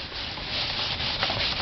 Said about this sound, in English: just give it a bit of a wipe